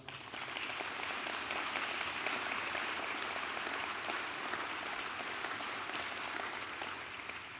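A university audience breaks into sustained applause at a state of the university address, a dense, even wash of clapping heard from within the hall.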